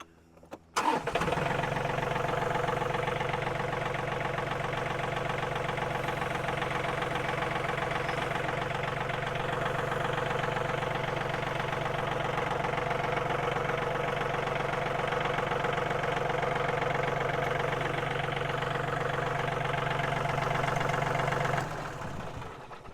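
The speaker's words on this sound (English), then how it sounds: "now got to get the tractor away from the work" A farm tractor engine cranks and catches, then settles into a steady, rough, knocking idle that runs for about twenty seconds before cutting off.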